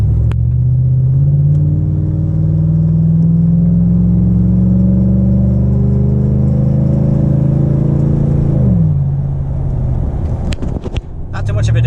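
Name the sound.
Chevrolet Silverado truck accelerating at half throttle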